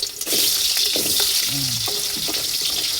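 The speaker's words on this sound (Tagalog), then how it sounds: "akin munang piprituhin ng konti ang ating carrots. At saka ang ating patatas." Carrots and potatoes fry in a pan for menudo, a constant bright sizzle filling the whole stretch, with a few light clinks and stirring scrapes over the top.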